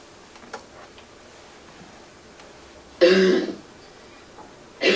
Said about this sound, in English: I'm going to play all 4 coughs